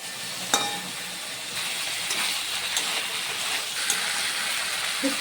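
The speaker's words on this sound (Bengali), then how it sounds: "শুক্তোটাকে কষে নিলাম মশলা দিয়ে।" Shukto vegetables sautéing in a pan with mustard, ginger, cumin and poppy seed paste, giving a loud, continuous sizzle with occasional stirring scrapes.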